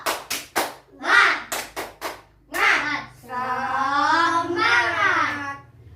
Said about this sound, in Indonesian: Tepuk semangat dulu yuk.